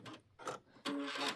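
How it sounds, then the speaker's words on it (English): An embroidery machine's thread cutter fires on a Kimberbell chenille pineapple block, giving a short burst of quiet mechanical whirring and clicking after a couple of faint clicks. "I'm going to hit my cut button."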